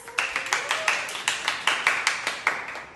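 A small audience claps at a steady, even rhythm, about a dozen crisp individual claps in a row, moderately close, with no talking.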